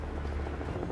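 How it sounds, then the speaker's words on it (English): A helicopter in Final Fantasy VII Remake flies overhead, a steady, dense rotor drone filling the moment without a break. "Got another helicopter flying overhead."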